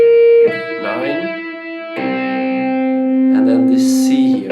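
Electric guitar lick played with hammer-ons and heavy distortion and effects, sounding as a few sustained notes that step smoothly from one pitch to the next, loud and close.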